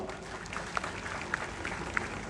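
A crowd claps at a ceremony unveiling an equestrian statue of Chhatrapati Shivaji Maharaj. The applause is steady, dense and rather distant, with a few louder single claps standing out from the wash.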